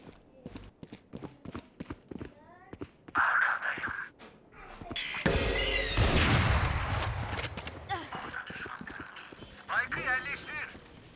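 Sniper gunfire sounds in the video game Valorant, with sharp shots and a louder burst among footsteps and other game effects, while players talk in between.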